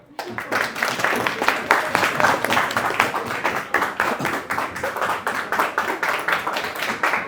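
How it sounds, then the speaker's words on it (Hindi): A class or lecture audience claps for a student named Sapna, a dense, steady burst of many hands clapping that continues for several seconds at a fairly loud, even level. "इनके लिए तालियां बजाओ"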